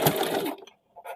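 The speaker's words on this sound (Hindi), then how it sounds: "अभी हम लोग हाथ करने के बाद ब्लाउज वाला भी सिलाई कर लेंगे।" A sewing machine runs a short burst of stitching on a blouse, a close, busy mechanical whir lasting about half a second, then stopping with a faint click afterward.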